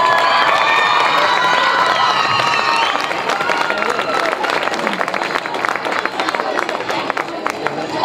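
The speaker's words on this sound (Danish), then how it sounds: "I skal have et rigtig stort bifald for den indsats," Loud crowd cheering, whistling and clapping fill the hall at the 2016 Odsherred youth culture prize award ceremony in Denmark, a dense, sustained roar that gradually shifts toward steadier applause.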